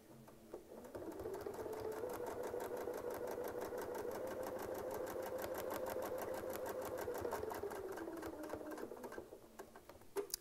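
A sewing machine stitches across a quilt with a Westalee Spin-E-Fex ruler, its fast mechanical whirring and needle chatter running steadily for about nine seconds before slowing to a stop, fairly quiet and close.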